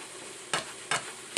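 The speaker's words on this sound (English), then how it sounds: "I'm going to let this go for a while till my vegetables get a little bit tender." Vegetables and ground meat frying in a pan, a soft sizzle with three sharp scraping stirs at regular intervals, close up and without talk.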